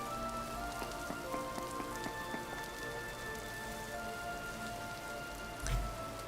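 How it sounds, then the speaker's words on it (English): Steady rain patters on surfaces in the survival game Vintage Story, a continuous even hiss of drops with faint ambient tones and a brief low thump near the end. "Of course, more rain."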